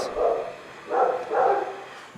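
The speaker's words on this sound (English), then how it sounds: "the dogs heard her, so they're barking at her" Dogs barking indoors at someone leaving: three loud, close barks in quick succession, the first alone and the last two nearly back to back, with no talking.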